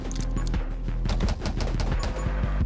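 Rapid, continuous machine gun fire in the video game 10 Minutes Till Dawn, with dense, punchy bursts and a steady low rumble underneath, loud and close.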